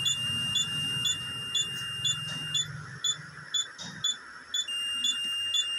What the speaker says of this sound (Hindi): मल्टीमीटर करते हैं कंटिन्यूटी पे। देख सकते हैं बीप का साउंड आएगा